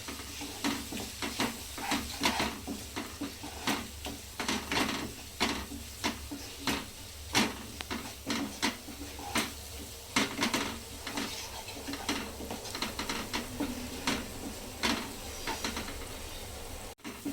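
Turmeric and spices sautéed in a pan for palak paneer, a steady run of utensil scrapes and clinks against the pan over a soft sizzle, close and fairly quiet with no talking.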